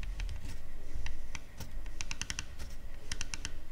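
A Vector Optics Continental x8 1-8x24i rifle scope's illumination rotary knob being turned, giving a scattered series of small, light, soft clicks at close range.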